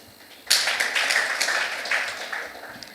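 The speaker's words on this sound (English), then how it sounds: "Another round of applause." Applause at a counsellors' conference starts abruptly after a short quiet moment, scattered clapping from a modest group that peaks early and then gradually thins out.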